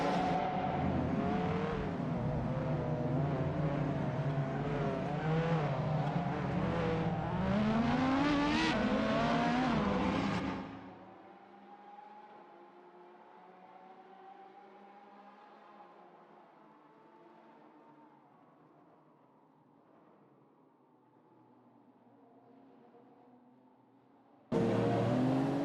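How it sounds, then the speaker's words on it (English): Race cars, including a Koenigsegg and a Lamborghini, roar through a video game race with loud, revving engines for about ten seconds, then fade to a faint, distant hum before a sudden loud burst at the end. "in a close fight with 7er27 and ST4 and BJ, who are driving a Lamborghini Sai FKPP 37"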